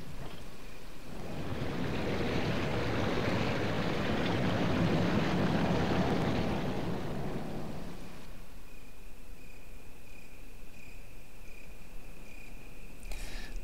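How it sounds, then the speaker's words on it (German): Waterfall in the video game Resident Evil Remake, a steady rushing roar of falling water that swells and then cuts off after about eight seconds, leaving a quiet hum. "Der Wasserfall wurde gestoppt."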